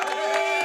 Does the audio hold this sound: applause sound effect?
yes